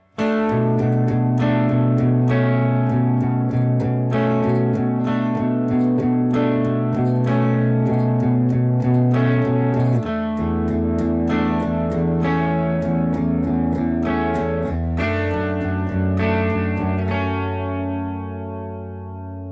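A distorted electric guitar plays the verse riff of a song, with steady strummed chords and ringing notes that let the final chord sustain and fade.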